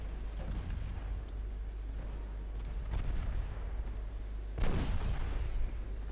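Naval destroyer gunfire in Ultimate Admiral Dreadnoughts, a steady low rumble of distant shots with a sharper, louder burst near the end, no voices.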